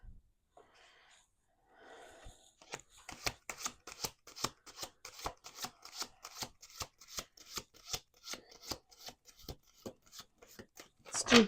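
A deck of tarot cards shuffled up close, starting with a soft rub and then settling into a fast, steady run of sharp card slaps and riffles that grows busier toward the end, with no voices.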